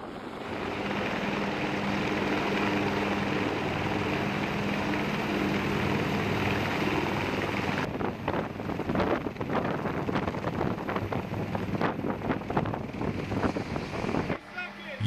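An MH-139A Grey Wolf helicopter flies nearby, its engine and rotor making a steady loud roar, joined midway by rhythmic blade chopping and wind buffeting.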